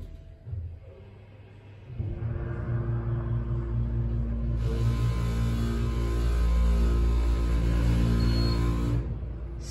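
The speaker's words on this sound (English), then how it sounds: "Copy so you can hear the motor." A KONE HH/MX elevator motor at the Gaylord Texan runs as a steady low hum and whine that swells midway and holds for several seconds, a worn motor needing work, recorded close inside the car with no talk.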